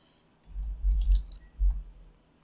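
Soft keyboard clicks on a Windows computer come in two short bursts of quick keystrokes, close and quiet, with no talk.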